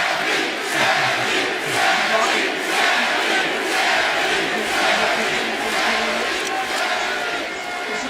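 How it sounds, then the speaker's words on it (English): A large crowd cheering and shouting continuously, a broad roar of many voices swelling in waves without pause. "United States of America cheering for a Canadian."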